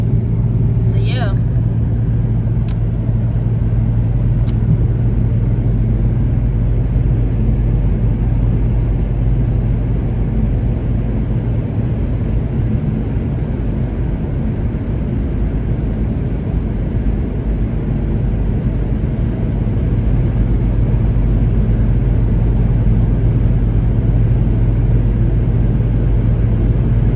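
Steady low engine drone and road rumble from an Infiniti G37 cruising at night, continuous and close throughout with a couple of faint brief ticks early on.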